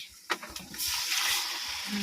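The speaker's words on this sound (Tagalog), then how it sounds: "maglagay tayo ng kunting tubig." Water runs and splashes for over a second as a small amount is poured into a chili powder spice mix to make a paste, following a few faint clicks and taps.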